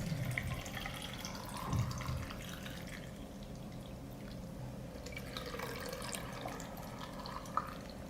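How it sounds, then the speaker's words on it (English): Cold water poured into glass jars packed with cucumber rings for pickling, a steady running trickle with a few splashing drips, close and continuous. "I will fill the jars with cold water to cover the cucumbers."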